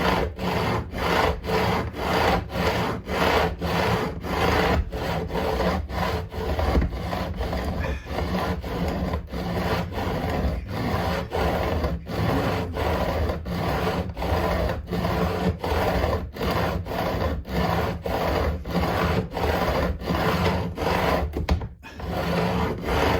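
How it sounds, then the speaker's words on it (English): A metal fret file rasps steadily across the frets of a Yamaha Attitude bass during a re-fret, in even back-and-forth strokes, close and loud with no talk. "Takes more filing at this end where all the frets are clustered together"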